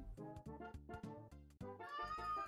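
A pet cat meows several times in a row, close and clear, with a longer drawn-out meow at the end.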